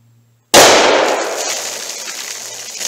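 A single .357 Magnum shot fires a Federal American Eagle soft point round into water jugs and a bologna pack: one sudden, very loud sharp crack after a short silence, then a long ringing decay.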